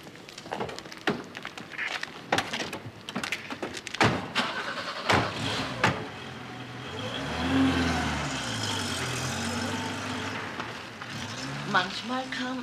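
Car doors thump shut several times, then an engine starts and a car pulls away with a swelling rumble that fades, with people talking briefly at the start.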